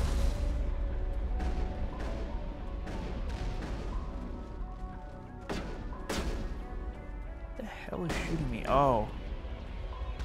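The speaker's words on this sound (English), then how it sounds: "Enemies are shooting me." Heavy booming gunfire from enemies in the video game Mass Effect, several loud sharp shots spaced across the scene over a steady game soundtrack, with a person briefly exclaiming near the end.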